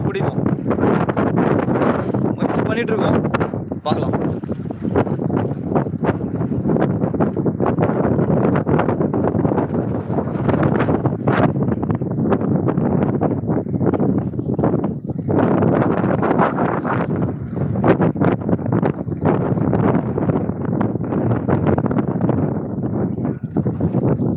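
Strong wind at sea buffets a fishing boat, roaring as a loud, continuous broadband rush with constant gusting and flutter across the whole stretch and no clear talk over it.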